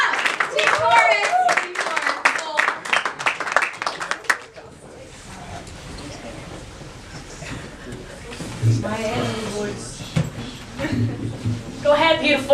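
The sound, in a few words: audience clapping at spoken word event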